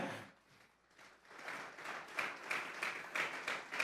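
A church congregation claps together as an offering of praise. The clapping builds from sparse taps into a sustained, moderately distant round of applause with steady rhythmic beats.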